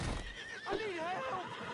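A horse in the video game Red Dead Redemption 2 gives a short, loud whinny over clip-clopping hooves, heard near and plain amid game sounds.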